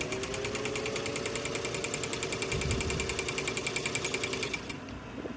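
A freshly painted and reassembled Singer 201-2 sewing machine stitches steadily, its rapid needle clatter repeating in an even mechanical rhythm up close before slowing to a few separate knocks at the end.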